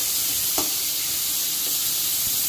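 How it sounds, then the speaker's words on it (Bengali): Papaya slices sizzle steadily in a hot pan for soup, a dense constant frying hiss with a brief scrape of stirring near the start and another softer one later. "পেঁপে মোটামুটি ফ্রাই করা হয়ে গেছে"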